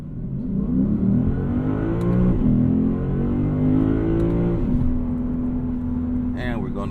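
Lexus IS500 V8 accelerating hard in Sport Plus mode, a loud, sustained engine roar that climbs in pitch through the revs, drops briefly at a shift and builds again, with an upshift near the end.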